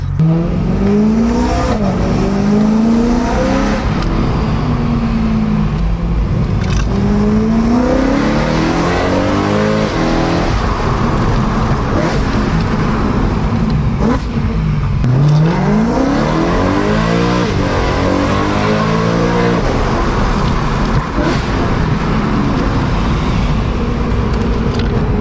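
Interior cabin sound of a BMW E9x M3 V8 with an Eventuri carbon plenum, loud revs rising and falling repeatedly through gear changes, with a steady road roar underneath.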